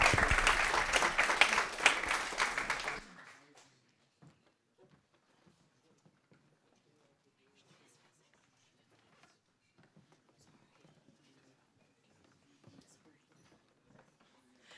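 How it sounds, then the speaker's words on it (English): Audience applause at a live tech talk, loud and steady clapping from the crowd for about three seconds, then cutting off to near silence with faint scattered rustles. "Round of applause."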